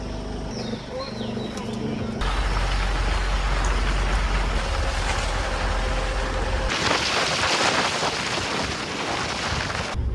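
Wind rushes hard and close past an open jungle safari vehicle on the move in Jaldapara forest, a steady roaring buffet with engine rumble beneath, rising in intensity partway through.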